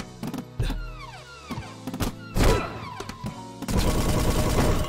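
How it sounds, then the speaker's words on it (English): Lamps fire bullets in the tower-defense platformer Toaster Defense. The game effects are a loud, close run of sharp shots and thuds, with falling, sweeping tones and a dense burst of firing toward the end. "So they will shoot out bullets, as you see."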